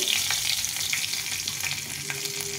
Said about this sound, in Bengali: এখন আর একটু তেল দিয়ে দেবো। এখানে নিয়েছি শুকনো লঙ্কা, সাদা জিরে,